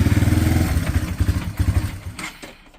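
A 2000 Yamaha Beartracker 250 quad runs on a swapped cheap Chinese carburetor, its small engine putting out a steady close chugging idle that turns uneven and sputtering, then fades toward the end.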